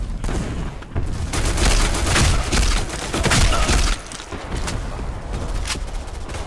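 Grenade blasts and bursts of gunfire in the shooter game Black Squad, loud booming impacts and rattling shots in overlapping waves with brief lulls between.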